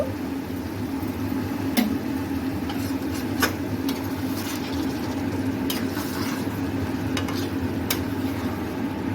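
Prawn curry being gently stirred in a pan with sliced green chillies, soft scraping strokes at irregular intervals over a low steady sizzle and background hum.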